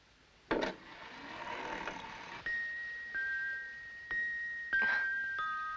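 A clock chimes eleven o'clock in an old dark house in a 1963 film, sounding a series of clear, ringing strikes spaced roughly a second apart that sustain between hits.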